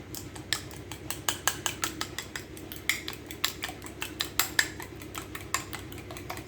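A fork or spoon stirs a single egg in a large bowl for a meatloaf, making a steady run of rapid, close metallic clicks and taps against the bowl, with no one speaking.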